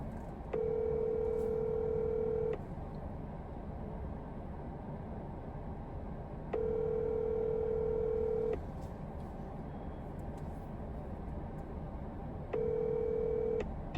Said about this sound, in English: I'm going to give them a call.